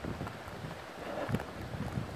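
Wind gusting outdoors along the banks of the Meurthe river, a steady broadband rush with buffeting against the microphone that swells gradually, fairly loud and close, with no voices.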